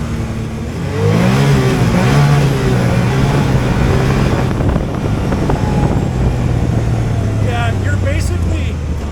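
Engine of a 2024 Can-Am Maverick R XRS side-by-side revving hard, climbing in pitch through rapid gear shifts, loud and close with wind buffeting, while people talk over it.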